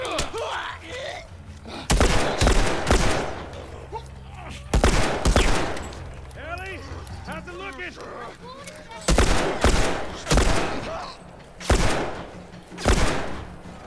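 Gunfire from The Last of Us, sharp bursts of shots in clusters, loud and near, separated by stretches of in-game ambience and creaking, with a voice talking briefly in between.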